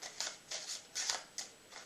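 A deck of playing cards being riffle shuffled, quick crisp flutters of cards at close range, repeated several times in short bursts.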